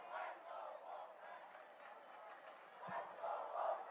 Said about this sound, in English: We hear the Wolfpack crowd really getting into this one, man.